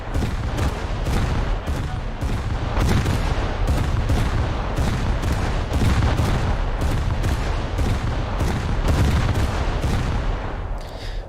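Guns on a destroyer in a naval video game fire shells at a light cruiser: loud, sharp reports repeat about every half-second to second over a constant rumbling din.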